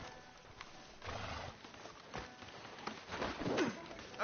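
A horse in the Red Dead Redemption video game, with hoof clip-clops and a brief whinny over a quiet outdoor ambience in a town outside a sheriff's office.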